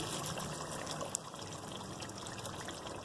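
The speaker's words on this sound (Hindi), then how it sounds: "इस पोजीशन पर मैं 1 गिलास पानी ऐड कर और इसे दम पर रख दूंगी" A glass of water is poured into a pot of mutton aloo gosht curry with potatoes, a steady close trickle and gush of liquid that runs throughout, with no talking.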